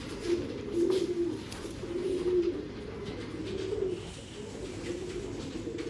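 A female pigeon coos in a low, soft series of repeated rolling calls, moderately close, over a faint background hum.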